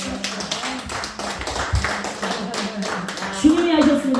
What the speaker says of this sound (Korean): 우리 박수 한번 쳐주시죠.